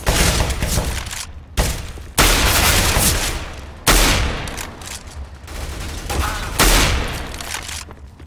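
Gunfire from a gun in a Counter-Strike: Global Offensive competitive match: several loud, close bursts of rapid shots, each starting sharply and decaying, separated by brief pauses.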